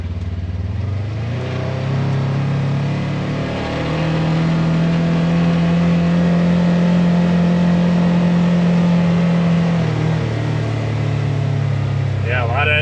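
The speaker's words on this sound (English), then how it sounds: "Yeah, a lot of engine braking there." A Polaris General UTV engine with a CVT transmission drones steadily in low gear under engine braking, its pitch holding and dropping as it slows, loud and close throughout with no talking.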